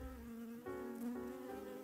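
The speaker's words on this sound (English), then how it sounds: "Meet Buzz Bee." A close, steady buzzing of a bee, droning continuously with slight shifts in pitch.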